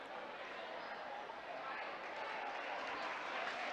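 A basketball crowd in a high school gym applauds a player getting back up, a dense, steady wash of clapping and murmur with a commentator talking over it.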